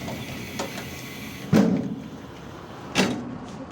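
Middle doors of a Škoda 14Tr trolleybus work with two sharp thuds about a second and a half apart, each followed by a brief rushing mechanical sound, heard close over steady cabin noise.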